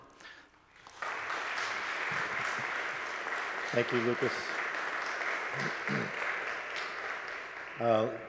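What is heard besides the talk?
audience applause for a philosopher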